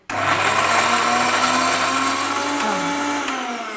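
A kitchen mixer grinder runs dry on chutney ingredients with a loud, continuous high-pitched whir that starts abruptly and holds steady for several seconds, easing slightly near the end, with no talking over it.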